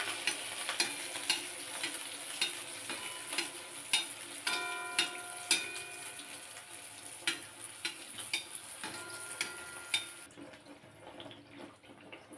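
Pua pitha, a Bengali rice-flour sweet, frying in refined oil, with a steady close sizzle, bubbling crackle and scattered drips and small clinks throughout, quieting near the end.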